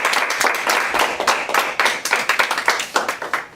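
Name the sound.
game show audience applauding contestant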